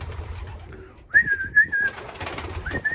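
A pigeon coos close by, a soft warbling call followed by a second shorter coo, with faint rustling in the background.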